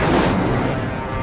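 Incendio fire spell cast in Hogwarts Legacy, a loud roaring whoosh and burst of flame that fills the moment, sustained and fading slightly at the end.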